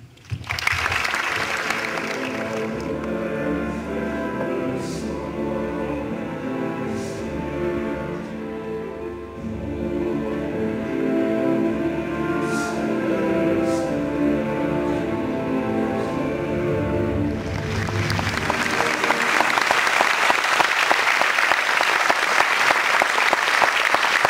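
Audience applause after a film screening of Jacques Perrin's ocean documentary, a steady crowd clapping sustained near and loud for about twenty seconds, with a brighter, denser burst toward the end.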